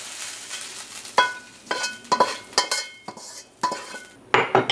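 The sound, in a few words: stirring garlic and pork in a frying pan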